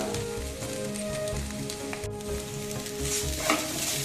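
Spoon stirring hing (asafoetida) in hot oil in a frying pan while making vada pav, with a steady close sizzle and repeated scraping strokes across the pan throughout.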